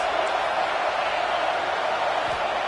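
Crowd at a college football game roars loudly and steadily, a dense wall of cheering and noise from a big stadium that holds without a break.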